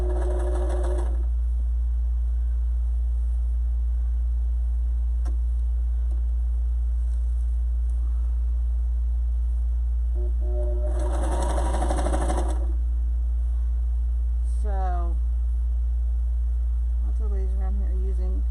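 A sewing machine stitching fabric face masks runs in short close bursts, a fast whirring stitch at the start and a longer loud run in the middle, with quiet pauses between.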